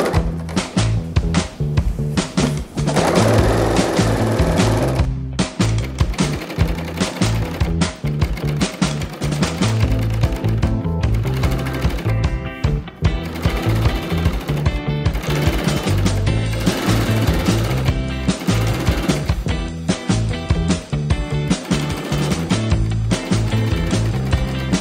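A sewing machine stitches swim trunks, a loud, continuous mechanical whir broken into short bursts and pauses as the fabric is guided, with occasional thumps and handling noise.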